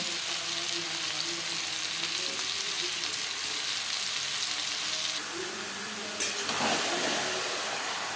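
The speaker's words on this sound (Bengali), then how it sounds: "পেঁয়াজ টমেটো ভাজা হয়ে গেছে এবার দিয়ে দেবো ম্যারিনেট করে রাখা মাংস" Marinated chicken sizzles loudly in a pan of fried onion and tomato, a steady frying hiss that continues throughout, with a short clatter partway through.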